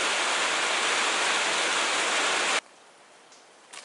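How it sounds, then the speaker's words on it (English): Heavy rain pouring down outside, a dense roaring wash of sound that stops abruptly partway through, leaving near silence with a few faint knocks. "it's raining outside today, really heavy rain"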